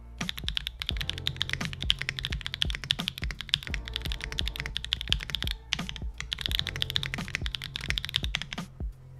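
Close-up clacking of a mechanical keyboard, crisp keystrokes tapped in quick bursts with a short pause midway, no one speaking.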